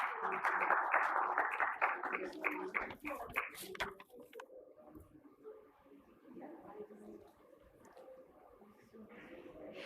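An audience at a lending conference session gives a warm round of applause, with dense clapping over the first few seconds that fades away while a speaker talks faintly afterward.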